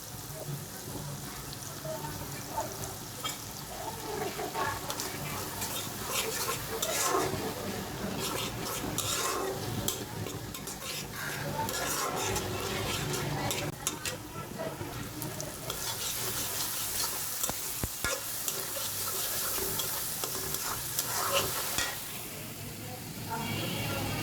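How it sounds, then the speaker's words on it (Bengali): Cumin, turmeric and chilli powder fry and get stirred in a pan for a long stretch: steady close sizzling hiss with repeated scraping and clattering strokes, louder in the second half, no talking. "মশলাগুলোকে ভালো করে কষিয়ে নিয়েছি।"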